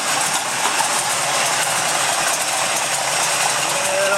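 Steady engine hum of a vehicle idling just after a new water pump was installed, a continuous broadband drone running evenly throughout without pauses.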